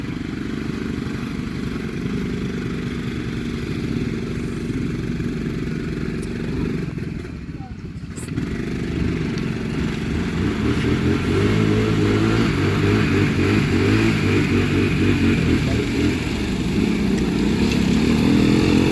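A Yamaha Big Bear 350 ATV engine running in 4th gear, a steady mid-pitched motor drone that dips briefly partway through, then climbs louder and rougher with rattling clatter, under a voice talking over the ride.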